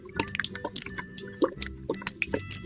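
Water drips and splashes while a Barbie doll's hair is washed, irregular wet plinks and small squishy splatters close by, fairly busy throughout.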